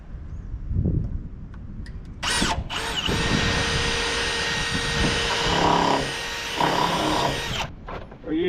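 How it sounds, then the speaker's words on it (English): A power drill pre-drills holes in wood for 4-inch lag bolts. Whining spin-ups and sustained high-pitched drilling alternate with brief pauses and pitch changes under a few clunks, loud and close, with no talking. "We're using a 4-inch lag bolt pre-drilling."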